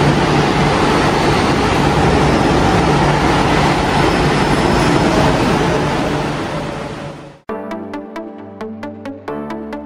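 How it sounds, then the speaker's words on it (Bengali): A Kolkata metro train pulls into the station with a loud, continuous rumbling roar that fades out, followed by a chiming electronic tone sequence of several clear, evenly spaced notes. "আর এই মেট্রো চলে এসছে।"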